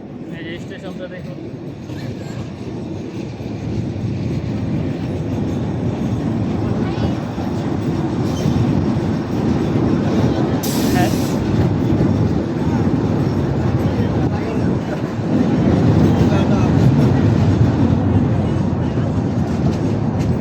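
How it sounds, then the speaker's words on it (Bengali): A commuter train pulling into Gendaria station in Dhaka, a loud continuous rumble and rattle of the carriages that grows stronger toward the end, with people talking over it. "এই যে এখন আমাদের ট্রেনটি ঢাকা গেন্দারি স্টেশনে প্রবেশ করলো"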